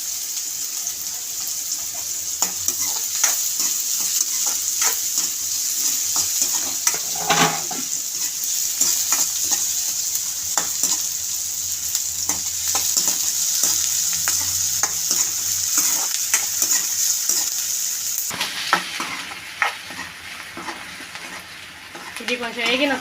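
Green chillies fry in oil in a pan, a loud steady sizzle with frequent utensil scrapes and stirs, the hiss changing character toward the end.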